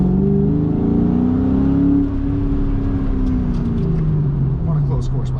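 A 1999-2004 New Edge Ford Mustang fitted with coilovers pulls away, its engine droning and rising in pitch from inside the car, loud and continuous, with a voice speaking over it.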